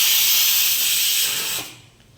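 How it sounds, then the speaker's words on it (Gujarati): A pressure cooker cooking chana dal releases a loud, steady hiss of steam that cuts off sharply after about one and a half seconds, leaving near quiet. "સાઈડમાં આપણું કુકર પણ થઈ રહ્યું છે."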